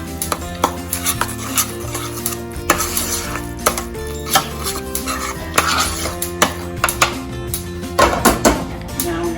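Spoon scraping and stirring zeppole dough in a pot on a stovetop, irregular knocks and clatters against the metal sides with busy rhythmic scraping, close and fairly loud.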